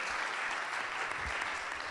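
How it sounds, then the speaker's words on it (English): Audience at a lightning-talks conference applauding the presenters, a dense, even wash of clapping sustained throughout, moderately loud and without speech. "let's give a nice round of applause to all of our presenters today"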